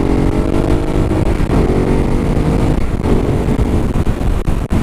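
Ducati Hypermotard 939 motorcycle engine pulling hard under acceleration, a loud, steady close-up drone with rising harmonic whine and wind rush that holds throughout with little pause.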